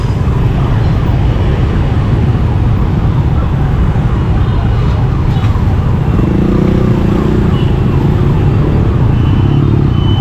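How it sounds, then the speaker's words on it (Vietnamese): Ambulance siren wailing through dense, congested city traffic in Saigon, heard over a steady roar of motorbikes and cars that continues for the whole stretch. "Các bạn thấy nghe thấy cái tiếng xe cấp cứu đó."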